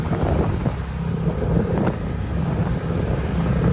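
A Yamaha MX King motorcycle suffering extreme overheating, with its radiator coolant turned to jelly, rides on a test drive: a steady engine drone blended with heavy wind buffeting on the microphone, loud and continuous throughout.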